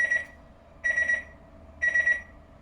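A kitchen timer alarm for tea goes off in three bursts of rapid high beeps, each group about a second apart, moderately loud, with no talk.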